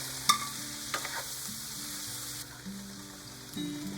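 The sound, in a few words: shrimp sizzling in a frying pan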